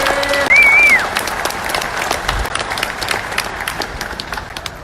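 Audience applause at an outdoor gun rally, a dense burst of clapping from a crowd with a brief whistle near the start, steady and fairly loud before easing slightly.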